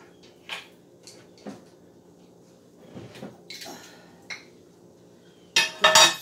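A baking pan for oven-baked spaghetti is fetched and handled in a home kitchen, with scattered metallic knocks and clinks, a cupboard-like thud, and a louder clatter of metal near the end.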